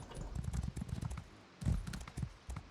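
Horse hooves clip-clop in Elder Scrolls Online player-versus-player combat, a quick uneven run of soft thuds at moderate volume with other game noise, plus a louder cluster of steps near the end.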